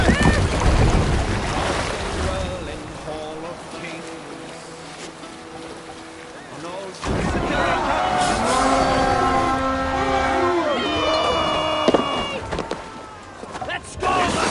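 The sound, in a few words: ship under sail on water in video game Assassin's Creed Valhalla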